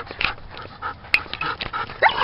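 Dog panting with faint whimpers and small yips, close by, in a few short breathy bursts during a night of fireworks, with no talk over it.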